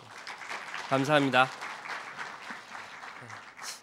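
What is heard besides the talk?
audience applause at a forum opening ceremony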